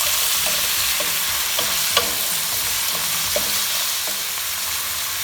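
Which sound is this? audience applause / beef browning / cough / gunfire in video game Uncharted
beef browning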